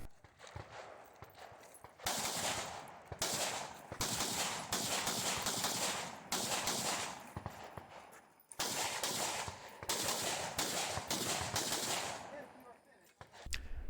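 A practical shooting match stage, a competitor firing on a standing longer-range stage, gives bursts of loud shots and fast double taps split by brief pauses, heard from close by.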